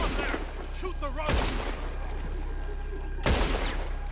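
Gunfire in the video game Red Dead Redemption 2, two loud sharp volleys about two seconds apart over a constant hum of game ambience, with a voice briefly audible near the start.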